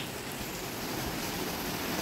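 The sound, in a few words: heavy rain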